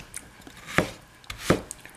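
Knife chopping half a green mango into small pieces on a cutting board, prepared for an aioli: two sharp, distinct chops about three-quarters of a second apart, close and clear with no talking.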